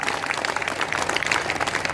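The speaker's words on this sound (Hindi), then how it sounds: "अभी भी कमजोर है तालियां" An audience claps at a Ram Navami devotional recital, making a steady crackle of many hands at moderate distance that continues throughout.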